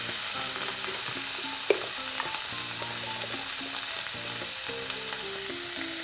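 Steady frying sizzle as turmeric is stirred into amla (Indian gooseberry) pickle in a pan, with a continuous hiss throughout and a few soft scraping clicks of the spoon.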